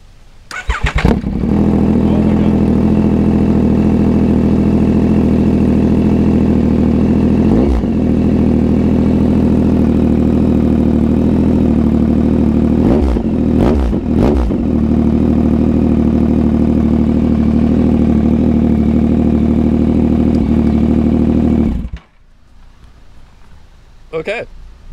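A 2022 Yamaha XSR900 fitted with a Kelpi full exhaust fires up for the first time, then holds a loud, close, rumbling idle for about twenty seconds with a few sharp blips before shutting off abruptly.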